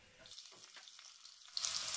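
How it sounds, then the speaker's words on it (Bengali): Potatoes frying in the oil left over from frying katla fish, a soft, steady sizzle that is faint and close, swelling louder near the end. "তেলেই আমি আলুটা একটু ভেজে নেব।"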